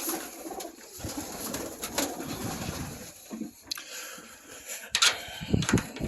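Pigeons in a loft cooing softly at close range, with scattered wing flutters and wooden knocks and shuffling among the birds.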